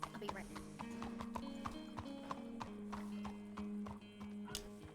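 Steady clip-clop of horse hooves walking at an even pace in the RedM roleplay game, with a low droning background tone and a voice talking over it.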